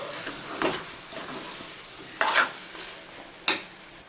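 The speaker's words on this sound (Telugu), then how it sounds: "వేసి ఇదంతా ముక్కలకి పట్టేలాగా ఒకసారి కలుపుకోండి" Chicken pieces stirred with roasted, ground masala powder in a pan for dhaba-style chicken curry, a soft continuous sizzle broken by a few scraping spoon strokes and clinks against the pan, close and moderately quiet.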